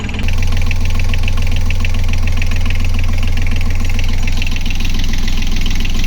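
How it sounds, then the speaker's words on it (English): A boat engine runs up close just after its sea water pump has been repaired. It gives a loud, steady idling rumble with a fast, even knocking pulse that never lets up. "The engine has been running for 15 minutes now."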